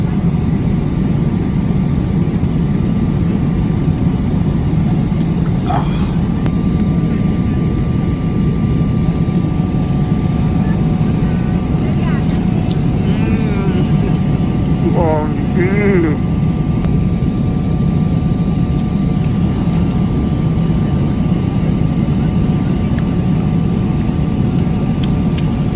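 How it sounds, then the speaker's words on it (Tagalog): Airplane cabin noise during descent on a long flight into Toronto, a loud steady engine roar running throughout, with faint brief tones and chirps over the drone. "after 22 hours sa ere guys, descending na tong eroplano natin"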